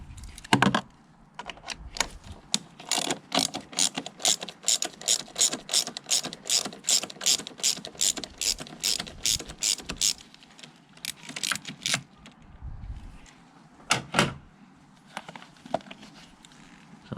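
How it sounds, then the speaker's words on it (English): A 1/4 inch ratchet backs out a T27 Torx bolt on a BMW E60 M5 during an SMG relay replacement, giving long runs of quick, even clicks with brief pauses between strokes, close and clear. "So we'll use our 1/4" ratchet for that one too."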